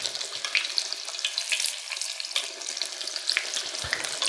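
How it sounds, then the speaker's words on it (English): Pork cutlets fry in a pan for Italian pork Milanese, a loud, close, steady sizzle full of crackling pops that keeps going throughout, with no talk. "You just want to fry these until they're golden or dark golden on each side."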